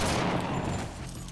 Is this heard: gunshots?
yes